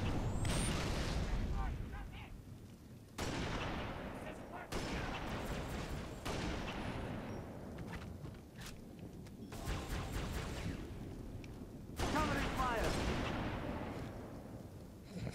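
Heavy gunfire and blasts in a Halo Reach firefight, with loud booming bursts repeating every few seconds over a constant dense background of battle noise, and voices talking now and then under the shooting.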